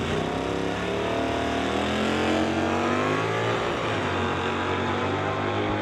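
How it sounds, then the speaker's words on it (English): A Chevelle and a 1968 Firebird launch side by side at a drag race, engines roaring at full throttle in a dense, sustained wall of loud revving as they pull away. "Stu Funk in the Chevelle from Hell Chevelle, going up against John Vandeven in the 1968 Firebird."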